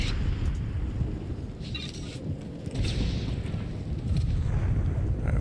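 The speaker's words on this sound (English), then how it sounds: "we've got the automated defense turrets" Automated defense turrets fire in Star Wars: The Old Republic as a run of deep, rumbling booms and blasts. The heavy low roar is steady and loud throughout, and a few faint sharper zaps rise above it.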